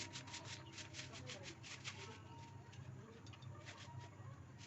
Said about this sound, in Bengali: সকাল সকাল উঠোনটা আমি ঝাড় দিয়ে নিচ্ছি